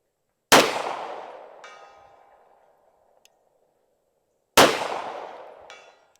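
Two sharp 9mm shots from an MPA double-stack pistol at a steel target 200 yards out, each a loud crack with a long ringing decay, spaced about four seconds apart, the faint clang of a distant steel hit following each.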